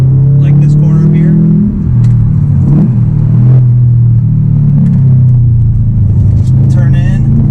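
A 2018 Subaru STI Type RA accelerating through a corner, its loud, steady engine drone rising and dipping in pitch from inside the cabin, with brief voice sounds above it.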